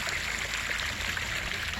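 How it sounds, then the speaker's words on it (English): Smooth flow of water spilling from a fake rock into a pond in a big cat enclosure, a steady close trickling wash with no breaks and no speech. "just love the sound of water."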